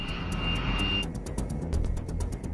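An A-10 Warthog attack jet flying, heard as a steady broadband engine roar that stays loud throughout, with a high whine fading out partway through and faint rhythmic pulses above it.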